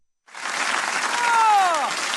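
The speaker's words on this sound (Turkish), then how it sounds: "Çankırı Kadın Halk Oyunları ekibine kocaman alkış" Audience applause for the Çankırı women's folk dance troupe on a studio stage, a dense, steady clatter of clapping that starts abruptly and holds at full volume, with a voice rising briefly through it.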